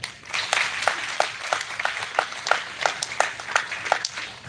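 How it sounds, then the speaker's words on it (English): Audience at an international conference clapping to welcome a speaker to the stage, a rhythmic, fairly sparse patter of hands heard from a little distance. "please welcome with a big round of applause"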